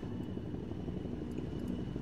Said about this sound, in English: So choppers are deploying stuff right there.